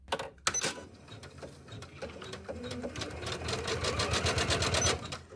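An embroidery machine stitches down water-soluble topping with a steady, busy mechanical chatter of rapid needle strokes, close and fairly loud, building slightly toward the end with no talking.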